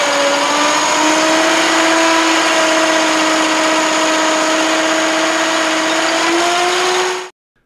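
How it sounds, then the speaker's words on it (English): BigFoot BF300 baler for compacting agricultural plastics running with its engine at idle, a loud steady drone with a constant hum that continues evenly until it cuts off abruptly near the end. "The balers will usually achieve adequate compression with the engine idling"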